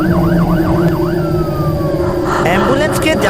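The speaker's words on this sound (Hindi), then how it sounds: "कुछ ही समय के बाद एम्बुलेंस वहां पर आई" An ambulance siren wails in a rapid rising and falling cycle, then slides down into a long falling tone, loud over steady traffic noise, with some jumbled sound near the end.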